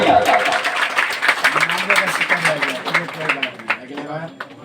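A village gathering gives a student hearty applause. Clapping patters steadily in the background while someone speaks over it close to the microphone.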